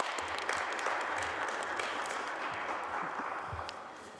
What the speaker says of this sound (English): So a round of applause for the government of Japan.